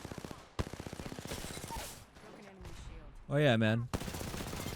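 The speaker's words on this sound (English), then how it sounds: "I'm getting shot by a" Video game gunfire rattles in rapid bursts, close and fairly loud, with a voice speaking briefly over it.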